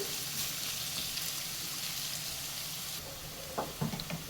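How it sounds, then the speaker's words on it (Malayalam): Onions sautéing in a pan for a Spanish omelette with egg and potato, giving a steady, moderate sizzle throughout, with a few louder stirring clatters near the end. "ഈ ഉള്ളിയൊക്കെ നല്ലപോലെ ഒന്ന് വഴറ്റിയെടുക്കാം നമുക്ക്"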